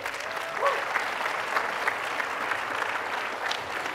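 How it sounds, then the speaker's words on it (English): A gala and fundraiser audience gives a big round of applause, a dense, sustained wash of clapping filling the room without pause. "give a big round of applause for Attorney General Ken Paxton"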